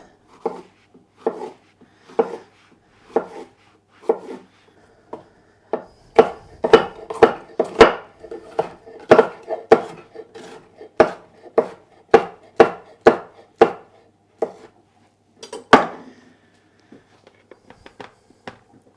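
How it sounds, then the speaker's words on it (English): A kitchen knife slices bell peppers into strips for meal-prep bowls and salad, striking a cutting board in a steady run of crisp, close chops that quicken in the middle and ease off toward the end. "these I'll just cut into strips for the fajita bowl, quinoa bowl, and for my salad"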